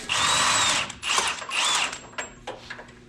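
A power tool whirring in bursts while removing a winch in a garage: several rising and falling high-pitched spins with short pauses between, fairly close and with no talk over it.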